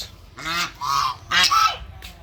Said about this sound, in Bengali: এখানে আছে রাজহাঁস